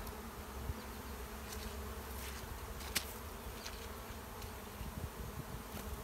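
Honey bees in a survivor hive drone with a steady, dense buzz throughout a spring inspection, close and continuous, with a few sharper passing buzzes and no talking.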